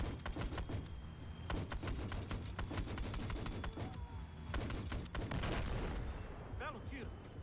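Gunfire in the video game Battlefield 4, with rapid bursts of shots and heavy booms cracking in dense, irregular clusters, loud and close, before the shooting thins out near the end.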